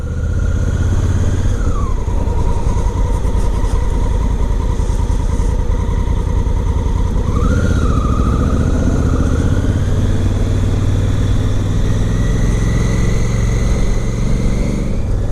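A 2017 Honda Africa Twin with an aftermarket exhaust pipe runs close by with a steady, throbbing low engine note, rising briefly in two short revs before settling back.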